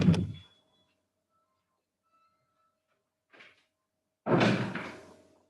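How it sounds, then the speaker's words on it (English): A door in a university lecture room swings shut with a solid thud and a short ringing decay, preceded by a faint click amid quiet. "I will just close the door."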